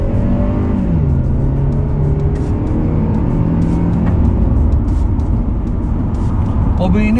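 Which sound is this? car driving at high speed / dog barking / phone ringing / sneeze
car driving at high speed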